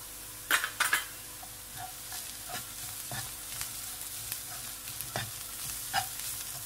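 Turmeric powder being stirred into well-browned onions in a pan for a green moong dal masala curry, with soft sizzling and a few sharp spoon scrapes and clinks against the pan, fairly quiet and close, no talking.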